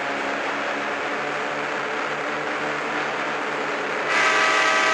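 A train arrives, giving a loud continuous roar and rumble of wheels and cars close by, with a brighter tonal sound rising in the last second.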